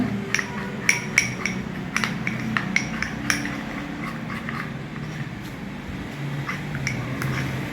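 A spoon stirs a turmeric face pack in a bowl close up, with a series of sharp clinks against the bowl early on that ease into softer, steady scraping.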